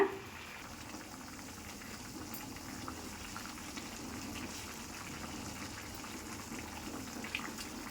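Tutti frutti pieces boil in a pot of water, a steady bubbling and rushing wash that holds even and moderately loud for the whole stretch, with no voices over it.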